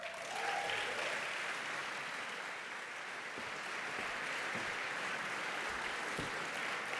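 A conference audience at a Minnesota awards ceremony applauds steadily as a speaker arrives, a dense, sustained wash of clapping that holds at an even level throughout.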